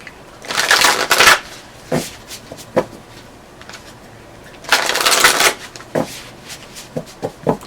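A deck of tarot cards is shuffled by hand in two bursts of riffling, close and crisp, with scattered taps and card handling in between.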